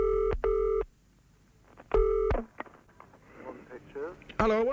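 Old-style telephone ringing in short repeated bursts, two close rings then another, loud and near, followed by faint background noise and a voice speaking briefly.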